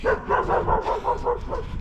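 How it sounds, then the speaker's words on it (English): A dog barks in a quick series of short, fairly close yips and barks with no talking. "Dogs bark."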